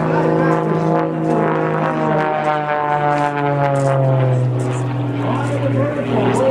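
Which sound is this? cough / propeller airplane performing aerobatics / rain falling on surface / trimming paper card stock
propeller airplane performing aerobatics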